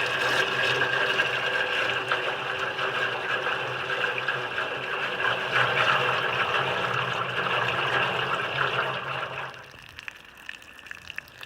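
Water rushing to fill the test tank of a 1956 Johnson outboard, a steady loud gushing flow for about nine seconds that then stops, leaving a few faint drips and knocks.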